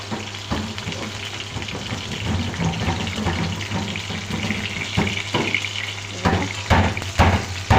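Sidol bora made with ash gourd leaves fries in hot oil, a steady close sizzle and crackle with occasional pops and scraping as the fritters are turned.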